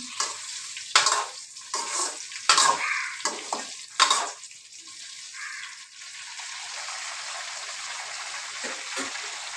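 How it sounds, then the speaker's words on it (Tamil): Food stirred in a pan over a medium flame, several scraping strokes against a soft sizzle that settles into a steady quiet simmer afterward. "ஒரு வாட்டி கலக்கலாம் நல்லா கலந்துக்கலாம்"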